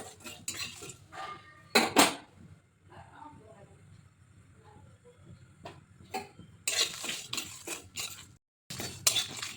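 Fennel seeds and black pepper dry roast in a wok, heard as repeated clinking and scraping of a metal spoon against the pan, in bursts with quieter gaps, close by.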